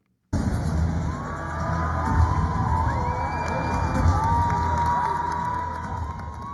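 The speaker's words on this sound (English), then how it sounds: "So these are crowds at the statue of a pre-Islamic emperor on a horse with a Roman emperor kneeling before him." Crowds cheering around a new statue of Shapur I on horseback in Tehran, a dense roar of voices with whoops, whistles and shouts rising and falling, loud and continuous.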